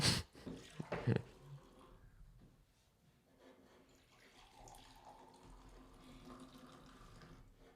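Batch-brewed coffee pours into a vessel with a short splashy start, then a quieter continuous trickle fading into soft room noise.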